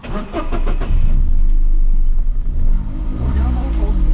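Used car engine cranks and fires up, then settles into a steady running hum with small rev changes, heard close by with talk over the start.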